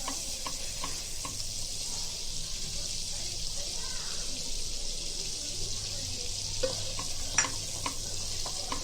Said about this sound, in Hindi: जीरा को भूनेंगे अच्छे से